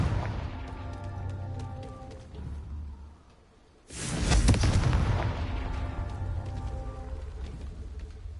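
A Confringo blasting spell goes off in Hogwarts Legacy: after a brief hush comes a single loud, close explosion with a deep boom and crackling debris, trailing into a rumbling tail over game ambience.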